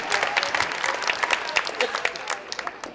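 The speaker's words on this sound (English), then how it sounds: "And clap your hands for that." Sustained applause from a crowd of over a thousand accountants at a QuickBooks Connect 2014 conference, dense steady clapping filling the room throughout.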